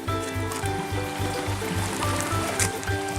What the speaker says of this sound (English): There's a nice little creek going down through there.